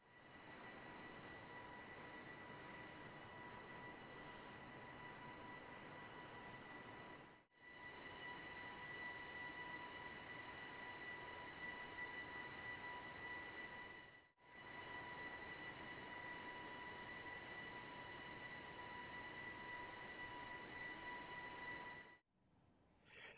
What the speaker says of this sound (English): The Leap 1B engines on the Max have that very distinctive whine sound